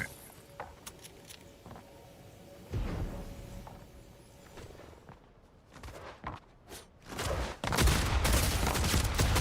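Shotgun fire in a video game, several sharp blasts scattered through the passage and bunching into loud bursts near the end, mixed with other game clatter and rustling.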